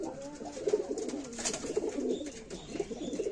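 Large pigeons coo repeatedly at close range in soft, rolling phrases that continue throughout.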